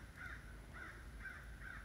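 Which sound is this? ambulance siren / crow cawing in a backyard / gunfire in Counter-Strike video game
crow cawing in a backyard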